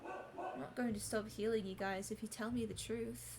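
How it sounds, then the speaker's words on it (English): A dog barks a few times in the background, heard under a person reading aloud close to the microphone. "Sorry, that's my dog."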